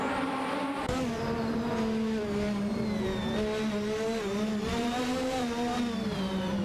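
McLaren MP4/4 and Benetton B188 Formula One cars race in a video game, high-pitched engines screaming continuously and loud, pitch rising and dipping through gear changes as the cars duel closely.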